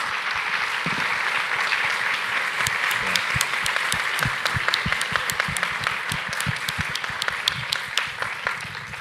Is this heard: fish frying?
no